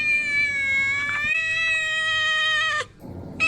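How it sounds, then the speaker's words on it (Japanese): A cat greets someone on a morning in the mountains of Moc Chau in northwest Vietnam. It gives one long, loud, close meow followed by the start of a second. "かわいい猫が挨拶に来てくれました。"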